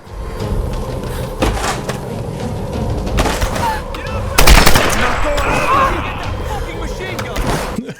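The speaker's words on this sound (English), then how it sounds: "Where did she get that fucking machine gun?" Automatic gunfire in the video game Tomb Raider (2013), rapid bursts and booming shots over game ambience and effects, with people talking throughout.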